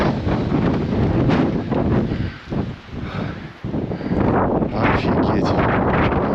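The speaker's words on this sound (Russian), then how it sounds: "Сейчас может быть ветер." Wind buffets the microphone among the rock pillars of the Krasnoyarsk Stolby in winter, a loud continuous roar that dips briefly mid-way before surging again.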